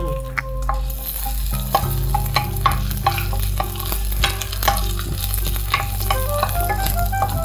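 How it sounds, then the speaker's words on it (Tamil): Four or five garlic cloves sautéing in a pan for a garlic curry, a steady close sizzle with scattered clinks and scrapes of stirring, no talk. "ஒரு நாலஞ்சு பூண்டு போட்டு வதக்கிக்கிறேன்"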